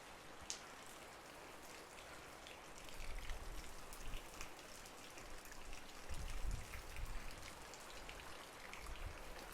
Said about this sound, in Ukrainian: Дощ йде